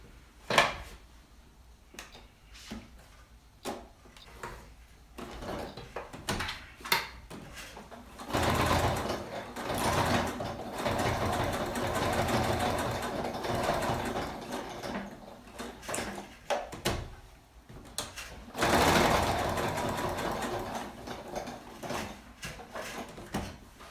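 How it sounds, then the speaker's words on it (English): A sewing machine base-stitches the exterior pocket onto a Cottonwood pouch, running in several sustained bursts separated by short pauses, with soft handling clicks and fabric shifts in between. "base stitch the exterior pocket on the piece"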